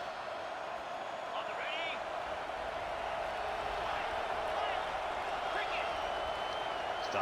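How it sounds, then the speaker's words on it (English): Stadium crowd roar in a rainy college football video game at Jordan-Hare, a steady dense wash of cheering noise throughout, with commentary voices over it. "Really trying to quiet this crowd as much as they can."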